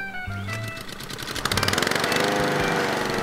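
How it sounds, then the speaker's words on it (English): Husqvarna LC356 AWD lawn mower running steadily while mowing, loud and close, with its engine drone and rhythmic blade chatter building as it starts cutting. "Okay, now we can mow."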